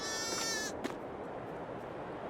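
Sheep bleating in the farming game Farming Simulator 22, a single clear wavering bleat in the first half second over a steady background hum, fading afterwards.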